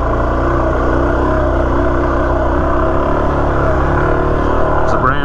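Suzuki DRZ400 dirt bike ridden off-road over a sandy, rocky technical trail, its engine droning loudly and steadily throughout with wind rumble.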